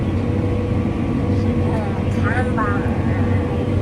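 John Deere S670 combine harvesting winter wheat in Illinois, heard from the cab as a constant loud machinery drone, with brief high chirping voices on top.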